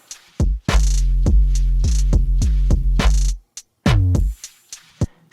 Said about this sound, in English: So right now you can hear every attack of the 808. It sounds really clicky and it's very noticeable